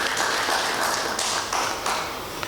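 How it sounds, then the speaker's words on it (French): Audience applause at a French-language launch ceremony for a presidential innovation grand prix, a steady wash of clapping from many hands with no voices over it, fairly loud and sustained throughout. "Et ça, je pense, ça mérite des applaudissements."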